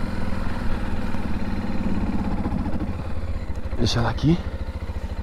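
Motorcycle engine idling up close with a steady low chugging rumble, while people talk over it throughout.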